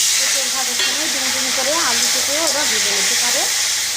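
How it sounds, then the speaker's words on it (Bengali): Young jackfruit pieces fry in oil in a pan with a constant loud sizzle, while a voice speaks softly over the cooking. "এবার এঁচড়গুলো একটুখানি ভেজে নেব"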